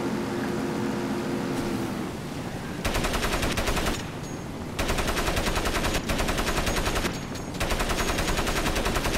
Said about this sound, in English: There's a guy shooting at me, right? And I'm shooting back, right?